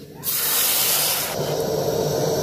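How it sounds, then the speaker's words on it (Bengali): Water poured into a pan of roasted gobindobhog rice and dal for bhoger khichuri sets off a loud, steady hissing sizzle that rises sharply, holds for about a second, then settles into a continuous bubbling sputter. "এবার জল দিয়ে দেবো।"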